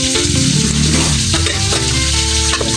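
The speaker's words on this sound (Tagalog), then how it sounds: "ilalagay na natin itong kakang gata" Coconut cream is poured into a pan of frying skipjack tuna, giving a loud, continuous sizzle with bubbling and faint clinks of a pan.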